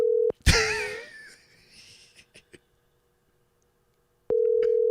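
Telephone call ringing out, with a steady ring tone that sounds briefly at the start, drops into a short gap of noise and fading voices, then returns loud and steady for the last moments.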